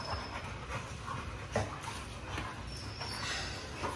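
A dog pants quickly and rhythmically at close range, with soft breathy bursts and a faint whimper, alone and fairly quiet.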